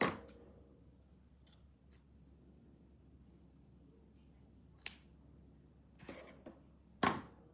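Scissors snip patterned card-making paper from a hobby paper pack at a quiet crafting table, giving a few separate crisp cuts spaced apart, the last one the loudest, with no talking.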